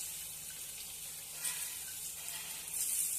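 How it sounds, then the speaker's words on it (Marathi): Coarsely crushed garlic hits hot oil, giving a soft, steady hiss and sizzle with a few brighter crackles, fairly faint and heard alone without talk. "तेल गरम झालेलं आहे तर आता हा लसूण जाडसर ठेसून घेतलेला आहे तो टाकून घेते त्याच्यात"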